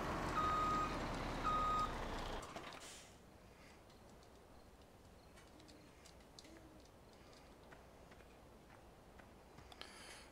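Vehicle reversing beeps in a farming video game, a steady loud run of electronic beeps while backing up near a mound of sawdust, cutting off after about two seconds and leaving faint ambient game sound.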